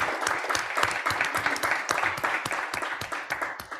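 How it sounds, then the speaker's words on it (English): An audience at a business pitch event claps in sustained applause, individual sharp claps standing out within a moderately loud, fairly even spread of hands that continues to the end. "Can we please give a round of applause to Bilingue?"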